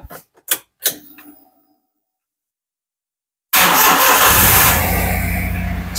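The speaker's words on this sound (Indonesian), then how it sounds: "Kita coba untuk menyalakan mobil." A Xenia car starts from a 12 Ah lithium battery fitted with a BMS: a few sharp clicks, then a pause of silence, then the engine bursts into a loud, steady running roar close by.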